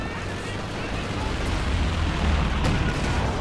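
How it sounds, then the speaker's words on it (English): A Wolverine in a strategy war game lays down an anti-infantry strafe, a dense, continuous roar of booming fire and blasts that stays steady and loud throughout. "That is anti-infantry strafe."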